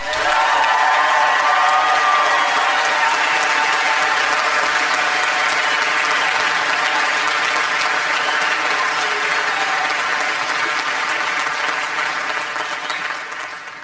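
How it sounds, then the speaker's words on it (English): Sustained, loud applause from a large crowd at a university graduation ceremony for the IBA class of 2021, dense and even throughout, easing slightly near the end. "Please, one round of loud applause for the IBA class of 2021!"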